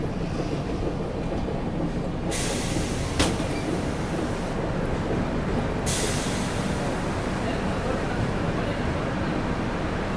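The Karnataka Sampark Kranti Express rolls into Hospet Junction with a steady, continuous rumble and rail noise, broken by a few short hissing bursts and one sharp click. A faint voice sits underneath.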